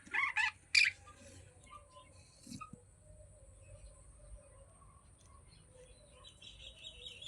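Pet African lovebirds chirp in a few sharp, high bursts near the start, then give fainter occasional calls against a quiet indoor background.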